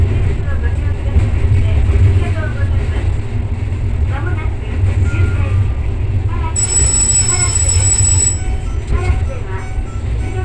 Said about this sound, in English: The train curves left and enters Karatsu Station,